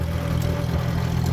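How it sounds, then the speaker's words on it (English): An old $300 auction tractor's engine running at a steady idle, a constant low rumble with a faint whine on top, close and unbroken, no voices. "Oh, we're not gonna shut the tractor off."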